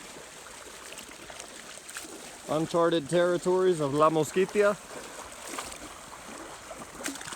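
A river crossing in the La Mosquitia jungle, with steady flowing water and soft splashing running throughout while someone speaks briefly in the middle.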